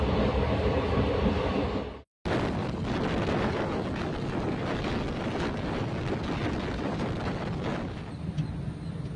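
A Nagercoil–Chennai Central superfast express rumbles steadily along the rails, a dense continuous roar with rattling undertones, broken once by a brief cut of silence before the running noise resumes at the same level.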